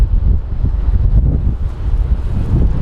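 Strong wind at Phoenix Sky Harbor International Airport batters the microphone, a loud continuous low roar and rumble with gusty surges and no talking.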